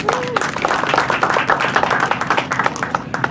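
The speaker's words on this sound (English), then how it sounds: "So let's give themselves a round of applause." Crowd applause at a community greeting in Orlando, Florida, lively clapping from a gathered group, close and fairly loud, with individual claps distinct in a steady flurry.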